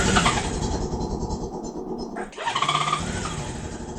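A 35-year-old Honda Goldwing motorcycle engine runs just after a jump start, a loud, close, uneven idle that dips briefly and then picks back up with a rougher revving note.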